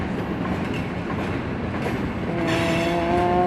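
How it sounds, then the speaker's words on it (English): Freight train of tankers, box cars and hoppers rolling past in Kansas City, a continuous loud rumble with rail clatter, and a squealing metallic tone rising near the end. "Boy, this is a good train."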